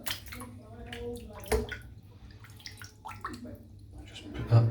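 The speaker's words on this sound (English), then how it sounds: "I'm just going to rinse off the soap." Shaving soap being rinsed under running water, splashing and gurgling in uneven bursts with a few sharper splashes, fairly quiet and close.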